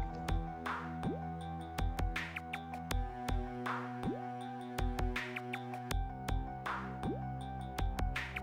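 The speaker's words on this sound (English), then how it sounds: "Mini Rock Waterfall." Water trickles and drips in a small rock waterfall, with clear, separate droplets falling in an irregular rhythm over a faint, steady background hum.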